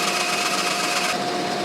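A milling machine fitted with a 3/4-inch end mill runs steadily, giving a loud, continuous whine over broadband hiss with no pauses, and its tone shifts slightly just before the end.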